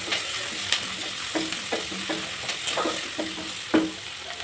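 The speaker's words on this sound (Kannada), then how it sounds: "ಈರುಳ್ಳಿ ಕಂದು ಬಣ್ಣ ಬರೋ ತನಕ ನೀಟಾಗಿ ಹುರ್ಕೊಳ್ಳಿ." Onions fry in a pan while being browned for a flat bean palya, giving a soft continuous sizzle under a few scraping stirs of a spatula, close and moderately quiet with no talk.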